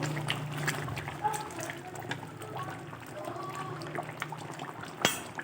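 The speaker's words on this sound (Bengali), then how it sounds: "ঢাকাটা খুলে দিয়েছি এবার ফুটছে সব কিছু" Chicken and potato curry bubbling in an uncovered pot, a soft watery burble with occasional spoon clinks and a sharp knock near the end, faint and close.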